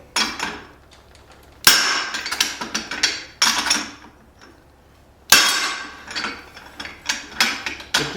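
Forged axe blank for a double-sided axe struck with hammer blows through a guillotine tool, several sharp metallic clangs in bursts with ringing tails and quieter taps between, close and loud.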